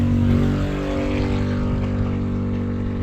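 A motorcycle engine idles close by with a steady, droning hum and strong low harmonics. The sound holds even throughout, with no voices.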